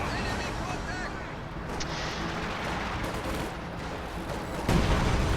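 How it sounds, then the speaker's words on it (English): ML-20 artillery gun fire in a World War II strategy game sounds as distant booms and scattered gunfire under a busy battle soundscape, ending in a louder blast, while a commentator talks throughout. "Looks like the ML-20 is firing once again on this battle group headquarters"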